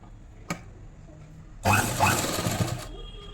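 A sewing machine stitches a kurti alteration in one steady burst of about a second after a single sharp click, running alone and close with no talk over it.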